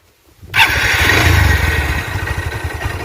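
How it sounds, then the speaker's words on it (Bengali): A motorcycle engine starts with an abrupt catch and settles into a steady, loud, close idle with a low throbbing pulse that eases slightly toward the end. "তো আমি বাইকটা স্টার্ট করবো এখন"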